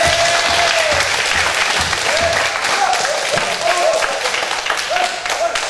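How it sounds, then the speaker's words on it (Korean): Loud, sustained applause from a church congregation at an evening summer revival service, dense clapping filling the room steadily for several seconds with faint voices and a few cheers mixed in. "예수께 영광의 박수 한번 주시겠습니다."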